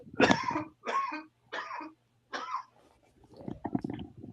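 Several harsh coughs come in a quick series, four close bursts, followed by softer throat noises and breathing, recorded up close.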